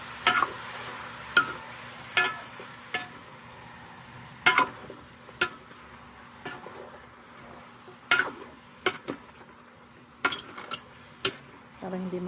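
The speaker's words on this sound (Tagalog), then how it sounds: "Haluin mo na natin." Mechado chicken in a pan, stirred with a utensil that knocks and scrapes against the metal in irregular bursts over a low, quiet simmer, heard close with no talking.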